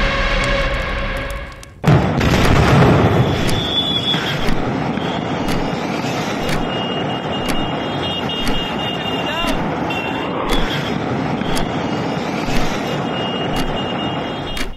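A sudden loud factory explosion booms at about two seconds in Harda, Madhya Pradesh, recorded hundreds of metres away, then a long rumbling roar lingers with scattered sharp clicks and faint voices.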